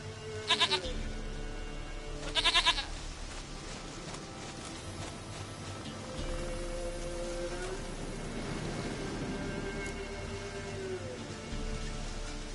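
A goat bleats twice in The Witcher 3 video game, two short, loud cries close together near the start, followed by a low, steady background ambience.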